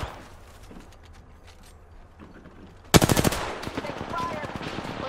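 Video game gunfire erupts suddenly as a loud, rapid burst of automatic shots, followed by scattered further shots and clatter, after a quieter stretch of faint background sound.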